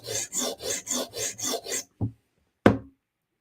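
A Bestech Tanto steel knife is drawn across a sharpening surface in six even, rhythmic rasping strokes, followed by two sharp isolated taps after a brief pause.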